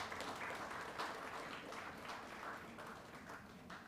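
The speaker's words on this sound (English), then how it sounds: "Let's give them another warm round of applause," Warm applause from an audience at a Yale academic event, a steady crowd of many hands clapping evenly throughout.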